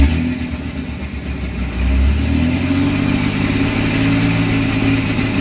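A Cummins diesel engine in a hotshot truck revs loudly and steadily with a deep, continuous rumble, then settles into a sustained drone with no talking over it.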